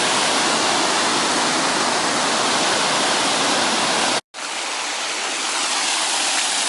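The Mawddach waterfalls and river rushing through woodland, a dense, loud, continuous roar of falling water that cuts out for an instant and then resumes slightly thinner.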